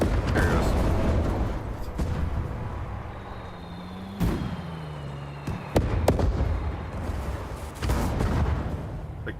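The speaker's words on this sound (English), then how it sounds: "The guided missiles." Guided missiles launching and exploding in the real-time strategy game Sudden Strike 5, a few distinct booming blasts and rushing whooshes over a constant battlefield rumble, with a voice talking at times.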